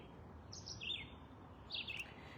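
Birds sing outdoors, a few short high chirping phrases, soft and somewhat distant over a faint steady background hush, with no one speaking.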